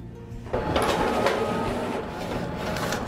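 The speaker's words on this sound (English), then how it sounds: "I'm gonna go ahead and hit print." A large-format printer feeds 13 by 19 inch paper from the bypass tray, a continuous mechanical whir with a sharp engagement about half a second in, followed by steady rolling and grinding at close range.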